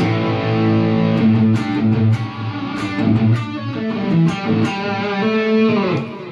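High-gain distorted electric guitar through a Vamp Pro amp modeler on preset 2B, a Marshall-style tone, playing a sustained, loud riff with ringing chords and picked notes, close and without talk.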